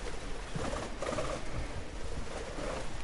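Pigeon-like birds in the video game Observer give low, repeated coos over a murky ambient hum, fairly quiet and close, with a few soft bursts spread across the stretch and no voices.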